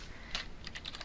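Short burst of typing on a computer keyboard, several quick, quiet keystrokes in an uneven rhythm, close by and without speech.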